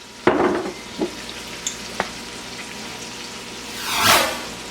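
Meat cooks in a pan with soy sauce and sesame oil for banh mi tacos, giving a soft sizzle with a few sharp clinks and stirring taps, then a brief louder hiss near the end.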